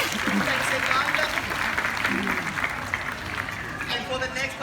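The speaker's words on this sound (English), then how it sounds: "And how about a big round of applause, Sienna?" Audience applause at a seal show at Sydney SeaLife Aquarium, a crowd clapping under a presenter's amplified voice, fading a little midway and then picking up again toward the end.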